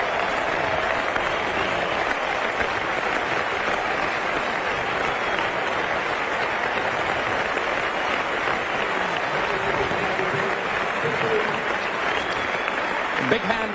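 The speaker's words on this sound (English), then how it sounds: "Big hand for Davis Boone" Cricket crowd at an Australia versus West Indies Test applauding Boone's half-century, a dense sustained roar of clapping and cheering throughout, with a commentator's voice under it.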